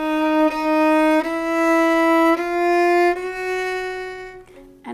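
A sustained, reedy instrumental line in a Bach piece moves up through several held notes, each step slightly higher and joined smoothly to the next, with a low drone beneath and a soft change near the end.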